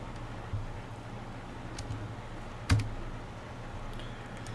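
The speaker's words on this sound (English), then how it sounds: "My loud typing is loud" Quiet typing on a computer keyboard, with sparse individual key clicks and one sharper tap standing out over a low, steady background hum.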